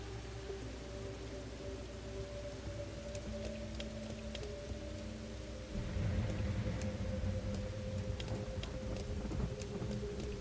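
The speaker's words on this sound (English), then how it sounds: "That's why it's raining." Rain falling in the video game Raincode+, a steady dense patter that swells heavier about halfway through, with a low rumble underneath and no voices.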